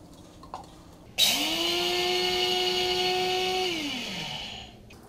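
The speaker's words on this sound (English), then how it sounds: "The third way is I use a coffee grinder." A small electric coffee grinder grinding sesame seeds whirs up sharply, runs at a steady high-pitched whine for a few seconds, then winds down and stops.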